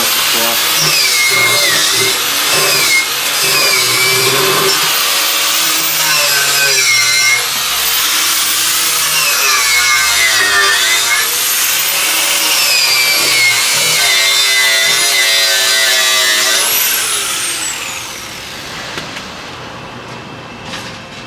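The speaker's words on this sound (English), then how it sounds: "So now I'll use the wire wheel" A wire wheel on a power tool grinds across a weld with a harsh, continuous scraping whine for most of the stretch, loud and close, then spins down near the end.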